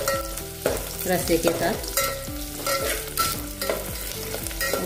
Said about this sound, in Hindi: अच्छे से भुन गए हैं प्याज